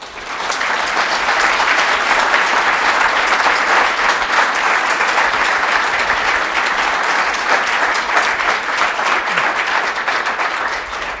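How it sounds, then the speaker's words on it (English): An audience at a medical grand rounds tribute breaks into steady, sustained applause, dense and even, filling the hall without pause for about eleven seconds. "Dr. Dinsmore, would you mind standing and accepting a round of applause?"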